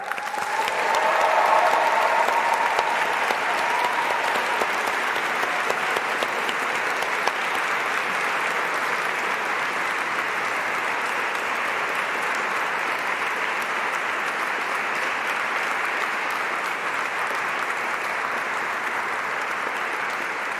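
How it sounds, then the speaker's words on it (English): Sustained, loud applause and cheering fill a university graduation ceremony hall, steady for about twenty seconds with no speech over it. "with heartfelt enthusiasm and the loudest cheer possible, please show your appreciation for your families and friends"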